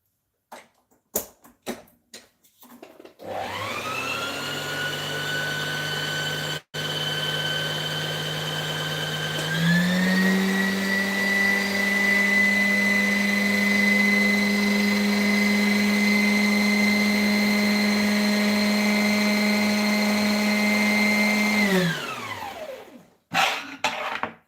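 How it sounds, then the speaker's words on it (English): A sewing machine runs steadily while winding thread onto a bobbin, a continuous motor whine that starts abruptly, steps up in speed partway through, holds for about twenty seconds and then winds down, with no talking. "I'm going to wind my thread now."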